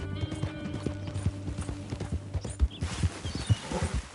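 Horse hooves clip-clopping in Red Dead Redemption 2, a steady walking rhythm of distinct close hoof strikes with faint ambient background.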